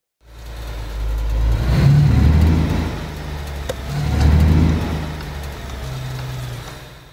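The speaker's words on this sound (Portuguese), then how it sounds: "Tá vindo carro." Car in the Alaskan Road Truckers game approaching on the road, an engine drone that swells, eases off and swells again, fairly loud and close, with no talk over it.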